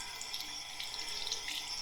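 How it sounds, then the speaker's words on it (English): Hot tap water runs steadily from a faucet for washing a Spyderco CruCarta Paramilitary 2 knife, a continuous close hiss and splash with no talking. "is just straight hot water"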